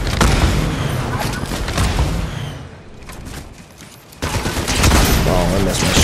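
Sniper rifle gunfire in the Fortnite video game, a burst of loud game gunshots and booming impacts over busy game sound, easing off briefly before another loud burst.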